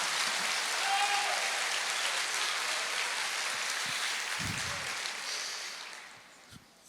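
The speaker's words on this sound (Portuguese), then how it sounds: "Você pode dar uma salva de palmas para Ele?" Applause from a church congregation during a sermon, a broad steady patter of many hands sustained for several seconds, then thinning and fading out toward the end.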